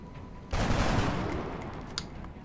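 Gunfire in the video game XCOM Enemy Unknown, a sudden loud burst of rapid automatic shots that rings out and slowly decays, with a few sharper clicks near the end.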